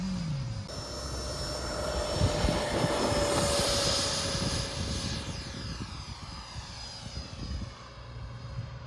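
An RC model jet passes in a slow flyby, its engine whine swelling to a peak mid-pass and then fading as it moves away, steady and fairly distant in open air.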